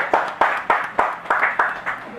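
Audience at a press presentation of a double album clapping in a steady unison beat, about eight sharp, evenly spaced claps in a row, close and clear.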